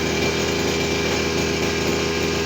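A grass cutter's small two-stroke engine runs continuously nearby, a loud, steady buzzing whine with no pauses, working in a calamansi orchard.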